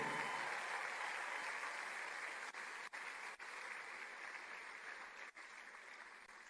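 Audience at the Enugu Tech Festival clapping steadily for Obi Cubana, a dense continuous wash of hands throughout, with no voices over it.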